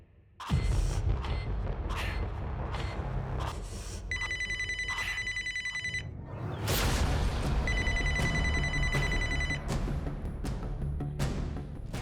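A telephone rings in two bursts of bright electronic trilling, heard over loud, busy background music and noise.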